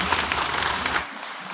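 A congregation applauds during a Kikuyu Sunday church service, dense clapping that rings out for about a second and then cuts off abruptly.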